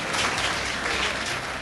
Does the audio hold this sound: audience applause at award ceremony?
yes